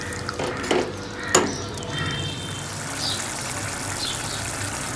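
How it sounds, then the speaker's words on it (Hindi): Ground spices sautéed in oil in a pan for chole made with dried peas: a soft sizzle runs under a few sharp spoon scrapes and clinks early on, with no voices. "मसालों को हम लगातार चलाएंगे और इसको हम तब तक भूनेंगे जब तक कि इसका ऑयल सेपरेट ना हो जाए।"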